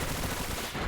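Bullet Seed attack in Pokémon Scarlet: a loud, steady stream of rapid popping impacts like a volley of shots, cutting briefly before resuming, with no voices.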